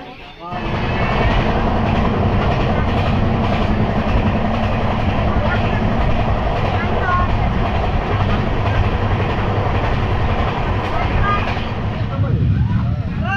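A passenger train rolls along past Adra, Purulia, with a loud, steady rumble and rhythmic clatter of wheels, heard from inside, with voices faintly underneath.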